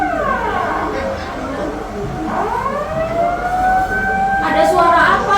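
A tsunami warning siren wails in rising and falling sweeps, fairly loud, while people talk and chatter around it.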